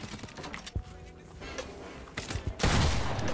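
Video game gunfire crackles in quick bursts, with sharp shots and a dense loud volley at the end, mixed with other game effects.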